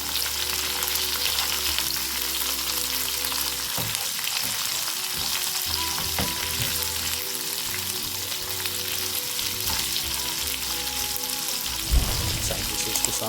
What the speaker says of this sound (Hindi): इसमें हम 2 स्लाइस्ड ऑनियन शामिल करेंगे। इसको हम सोते कर लेंगे 1 मिनट फ्राई करके।